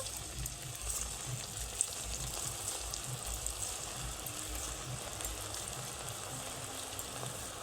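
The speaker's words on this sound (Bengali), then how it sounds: "একটা একটা করে ব্রেড বল তেলের মধ্যে দিয়ে দেব।" Bread pakora balls fry in a generous pool of hot oil, giving a steady, quiet, continuous sizzle and bubbling with no talk over it.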